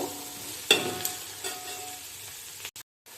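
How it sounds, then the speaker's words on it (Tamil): Onions sautéing in a pan for vegetable dum biryani, a soft sizzle with a few sharp clinks of a spatula against the pan, close by, ending in a sudden cut to silence. "வெங்காயம் நல்லா வதக்கி விட்டுட்டு ஸ்லோ ஃப்ளேமில் வச்சிடலாம்"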